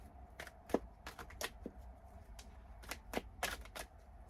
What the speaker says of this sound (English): Just give them a little bit of shuffle here